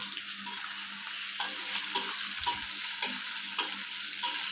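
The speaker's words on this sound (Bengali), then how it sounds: "পেঁয়াজটা আমি এখন লালচে করে ভেজে নেব" Plenty of chopped onion fries in a pan for a chicken bhuna, with a constant close sizzle and sharp spatula scrapes at a regular rhythm, no voices.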